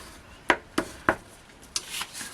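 Folds being scored into card for a pop-up box card: four or five short, crisp scraping strokes at an even pace, close and fairly quiet, with no talking.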